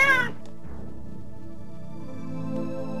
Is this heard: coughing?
no